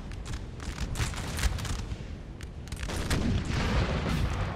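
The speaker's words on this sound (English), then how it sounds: "A 4-cannon battery." Repeated booming cannon shots from an 8-pounder four-gun artillery battery in a Napoleonic-era field battle in Napoleon Total War, firing into massed Spanish infantry, with dense overlapping blasts and rumbling battlefield noise throughout.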